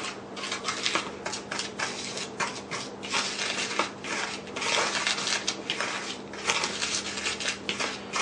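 Dry salsa spices and kosher salt are stirred together, a continuous close gritty rustling and scraping with rhythmic bursts as the mixture is turned over and over.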